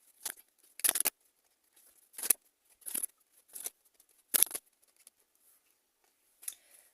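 Tarot cards being drawn and handled, with a handful of short, quiet papery slides and flicks spaced irregularly against near silence, close by with no talking.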